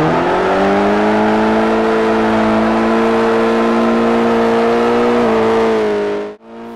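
A car engine in the Forza racing game revs hard and steadily while drifting, its high, buzzing whine holding nearly constant pitch before dipping slightly and cutting off abruptly near the end.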